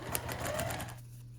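A sewing machine stitching a foundation paper pieced quilt block runs in a quick rhythmic whir for about a second, then stops, leaving a low hum.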